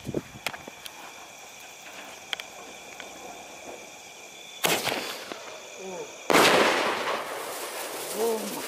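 A Diwali sky shot firework: a few small clicks and snaps while it is lit, then two sudden loud hissing whooshes of launch with crackling, and a voice faintly in between.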